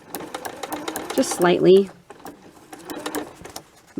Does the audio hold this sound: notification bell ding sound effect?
no